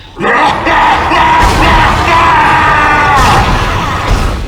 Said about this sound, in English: the gagging, roaring and screaming of the Necromorphs is easily one of their most identifiable traits